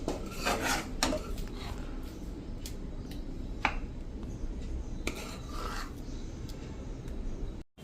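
Bajra flour khichu is served into a dish with metal utensils, giving close clinks and scrapes of spoon on pot and plate at an irregular pace, with no speech.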